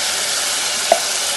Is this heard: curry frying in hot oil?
yes